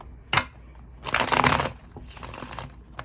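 Tarot cards are shuffled in brief bursts: a sharp riffle, then a longer rustling, flapping shuffle, followed by softer sliding and a final light snap, all close and fairly quiet with no talking.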